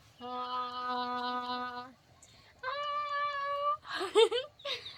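A cat gives two long, drawn-out meows followed by a few shorter, rougher calls, close and clear against a quiet background.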